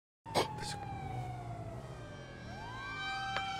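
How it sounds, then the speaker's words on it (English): Police sirens in the GTA 5 video game wail steadily for several seconds, a rising and falling tone that stays fairly loud and continuous throughout with no talk over it. "The sirens are getting further."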